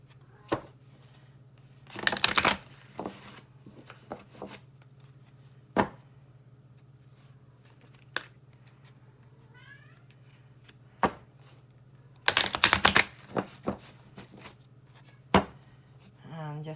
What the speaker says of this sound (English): I'm just going to shuffle here for a minute.